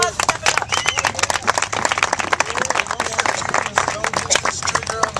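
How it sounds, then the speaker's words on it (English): A crowd at an Occupy Denver gathering claps and cheers for two volunteers, dense, loud applause throughout, with voices mixed in. "Give these guys a round of applause for stepping up."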